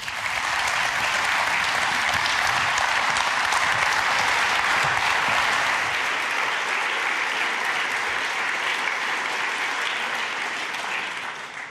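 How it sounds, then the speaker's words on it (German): Loud, sustained applause from a large audience at a foundation's 25th anniversary ceremony, steady throughout and tapering slightly at the end. "Begrüßen Sie mit einem nachhaltig kräftigen Applaus"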